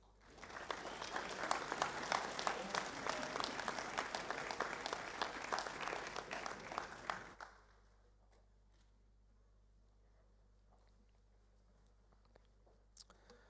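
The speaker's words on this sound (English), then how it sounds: "Can we please give these gentlemen a round of applause?" Audience applause at a school assembly, a dense, sustained round of clapping for about seven seconds that stops abruptly, leaving a quiet room with faint background noise.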